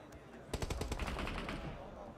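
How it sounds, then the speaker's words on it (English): Rapid automatic gunfire bursts in the video game PUBG Mobile during a bombardment at an esports match, a quick string of sharp shots at moderate distance that settles into a sustained rumble. "Butcher trying to stay down in the dirt for now against this bombardment from R8."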